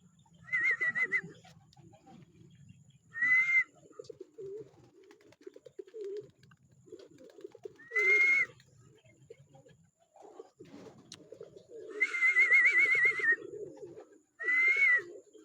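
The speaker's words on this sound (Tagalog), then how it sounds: "Dadatingan na ibon natin." Racing pigeons return to the loft during a derby race, giving repeated bursts of cooing and wingbeats that stand out clearly over a low, steady murmur of other birds nearby.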